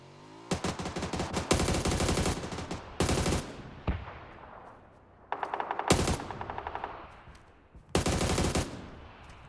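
Bursts of rapid automatic gunfire in PUBG on the Sanhok map, several long volleys separated by short pauses, fairly loud with echoing tails.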